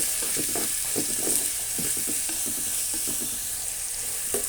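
Onions with a little salt fry in a pan for a homestyle chicken curry, giving a loud constant sizzle while a spoon stirs and scrapes in short, uneven strokes.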